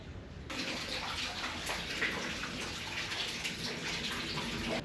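Water runs continuously somewhere inside a quiet building, a faint, steady rushing and splashing like a tap or a filling tub, heard alone.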